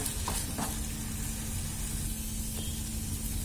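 Potatoes are stirred into chili sauce in a hot pan, producing a steady, close sizzle and hiss with a few brief scraping stir sounds.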